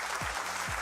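Short burst of applause for a contestant on a live call-in quiz show, a dense clapping wash throughout with a couple of low thumps.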